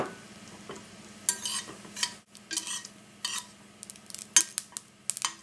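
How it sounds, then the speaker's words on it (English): Mustard and cumin seeds splutter in hot ghee in a quiet pan, giving faint sizzling with scattered sharp pops and crackles and occasional stirring scrapes. "the mustard seeds are spluttering"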